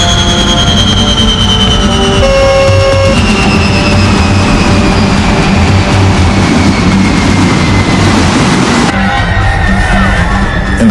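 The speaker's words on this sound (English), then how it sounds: "this terrible sound of the wind against the fuselage as the plane drops from the sky." Loud, continuous roaring rush of wind against the fuselage of a falling Avianca airliner, Colombia 1990, dense broadband noise with steady whining tones throughout, shifting slightly near the end.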